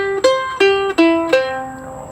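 A mandolin plays a simple C run lick: four clear plucked notes, each ringing and decaying before the next, with the last left to fade out.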